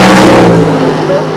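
Pro Modified door-slammer drag cars with big-block, nitrous-fed engines roar loudly and steadily at a drag strip, with a commentator's voice over the engine noise.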